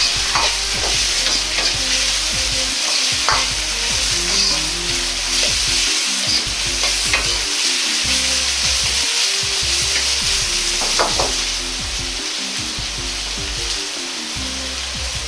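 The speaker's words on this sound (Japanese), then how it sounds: "鍋を振ったりしないでそのまま炒めます" Bamboo shoots sizzle loudly and steadily in a hot pan, with the scrape of a spatula stirring now and then and no talking.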